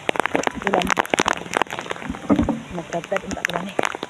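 Steady rain patters and splashes close by, with scattered drips and taps over a constant wash, while people talk over it.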